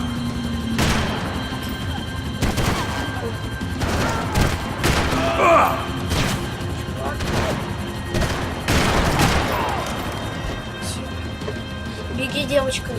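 Max Payne 3 video game gunfire, repeated loud gunshot bursts and booms in irregular volleys over a tense soundtrack, with voices speaking between the shots.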